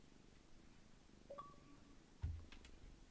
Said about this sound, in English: Oh, I've got a cat going on the desk as well.